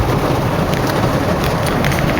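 Steady rain falls outdoors on the second rainy day in a row, a loud, continuous hiss with no breaks.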